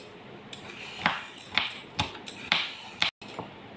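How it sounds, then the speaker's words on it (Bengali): Knife chopping capsicum into small pieces on a board at home, six or seven sharp, evenly spaced cuts roughly half a second apart, close and fairly quiet, no talking. "ক্যাপসিকামটা কেটে নেব ছোট্ট ছোট্ট করে।"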